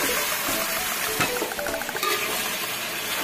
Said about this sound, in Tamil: நம்ம ஊற வச்சிருக்க சிக்கன் எடுத்து போடுவோம். அது இந்த எண்ணெயிலே நல்லா வதக்கணும்.